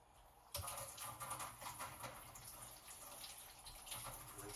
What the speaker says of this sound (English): I'm going to go ahead and rinse the head of this probe